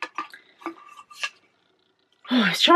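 A set of bamboo children's plates and a bowl being handled, giving several light, dull clacks and knocks over the first second, then a pause before a voice begins speaking.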